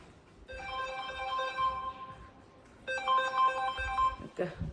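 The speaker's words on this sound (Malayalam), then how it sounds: "ഒരു ഫോൺ അടിക്കുന്നു" A phone rings in two electronic bursts separated by a short pause, moderately near, with a voice speaking briefly at the end.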